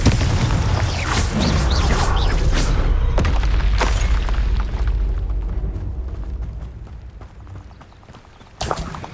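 A Confringo blasting curse explodes in the video game Hogwarts Legacy: a heavy, close boom with crackling debris that rumbles and fades over several seconds, then another sharp hit right at the end.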